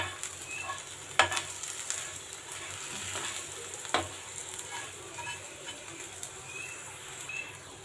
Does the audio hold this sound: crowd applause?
no